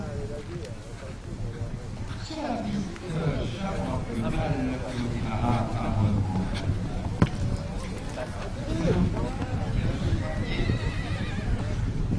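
A French pony stallion at a show jumping event neighs and whinnies amid hoofbeats on the ground, with people talking throughout.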